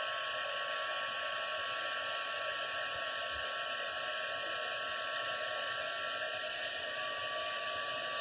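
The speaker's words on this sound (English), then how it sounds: "we'll just give it a bit of heat now" A heat gun blows steadily on embossing powder while making a stamped card, a constant airy roar with a faint mechanical whine that runs unbroken throughout at moderate level, with no talking.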